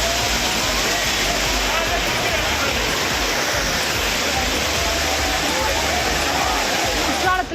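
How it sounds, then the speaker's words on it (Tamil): The Courtallam main waterfall in flood gives a dense, roaring rush of falling water. It holds steady and loud for about seven seconds without break. "பிரதான அருவியான குற்றால மெயின் அருவி ஐந்தருவியில் வெள்ளப்பெருக்கு ஏற்பட்டது"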